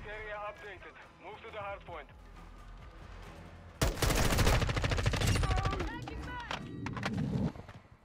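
Loud burst of shotgun gunfire in Call of Duty Modern Warfare 2 multiplayer, a sudden blast followed by rapid shots and game effects, after a stretch of talk and quieter play.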